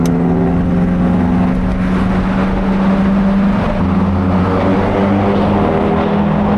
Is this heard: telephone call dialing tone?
no